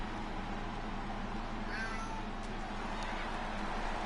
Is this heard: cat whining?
yes